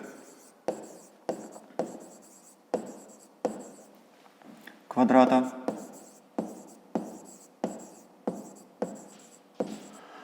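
Pen or pencil writing out a fifth-grade math exercise by hand, a regular series of short scratchy strokes and taps close by, with one denser burst of scribbling partway through.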